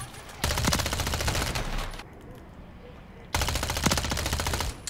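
Rapid automatic fire from a STRIKER 9 submachine gun in a first-person shooter video game, two sustained loud bursts separated by a short pause, with no talking.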